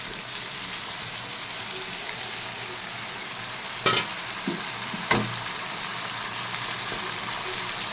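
Fish sizzles steadily in a pan over low heat with half-fried onion, chopped green chilli and sliced tomato, with a couple of sharp stirring scrapes and clatters standing out over the constant fry.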